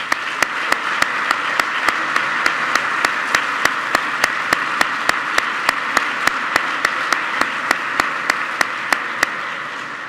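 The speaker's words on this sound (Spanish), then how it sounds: "Un fuerte aplauso para ellos, por favor." A ceremony audience marking the Erasmus programme's 30th anniversary breaks into loud, sustained applause that keeps a steady, full texture throughout, with evenly spaced sharp claps standing out.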